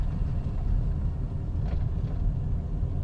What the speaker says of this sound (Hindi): That air intake sound, oh my God.